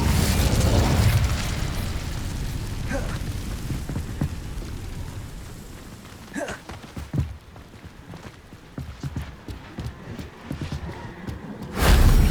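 An Incendio fire spell cast in the Hogwarts Legacy video game: a loud fiery burst opens, followed by scattered smaller pops and crackles, then another sharp blast near the end.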